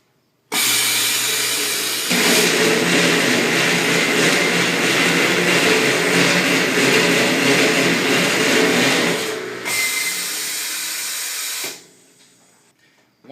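Truck tire sidewall remover machine whirs up as it cuts around a tire, a steady close mechanical drone for about eleven seconds with a brief change in tone near the end before it winds down.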